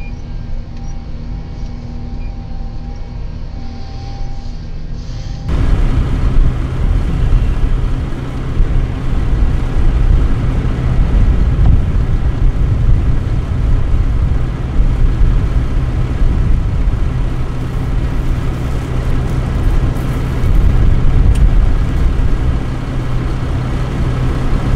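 A JCB Fastrac tractor engine runs under load while cultivating, a loud, continuous low drone heard from the cab that jumps in volume after a few seconds and then holds steady, with no speech.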